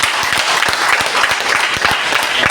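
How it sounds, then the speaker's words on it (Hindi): Loud, close applause from an audience at a Safe Shop sales venue meeting, fast dense clapping filling the short stretch without a break. "इस सेल्स ऑफ अपॉर्चुनिटी के लिए धमाकेदार ताली बनता है"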